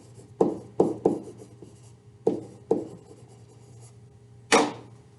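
Writing notes by hand: six separate pen or marker strokes on a surface, each a short scratchy rub with gaps between, close and clear over a faint steady hum, no talking.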